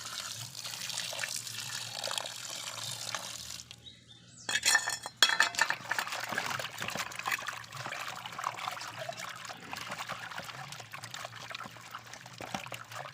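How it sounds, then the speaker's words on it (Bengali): A bagarius (bagar) fish is rinsed under running water in a kitchen. A quiet trickle and splashing are broken by a brief pause, then more pouring and scattered clinks of utensils and dishes nearby. "মাছটা আমি ধুয়ে নেবো এখন আমি ধুয়ে দিচ্ছি সব"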